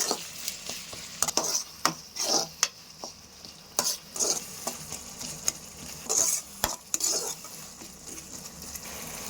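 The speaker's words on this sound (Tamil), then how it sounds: "தக்காளி நல்லா வதக்கிட்டோம்." Tomatoes sautéing in a pan with green chili and rock salt, stirred by a utensil that scrapes and taps in irregular bursts over a soft sizzle.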